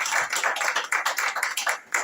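A crowd at an embassy jubilee launch in Tokyo claps for itself, a brief burst of close, busy hand claps with a ragged rhythm that dips briefly near the end.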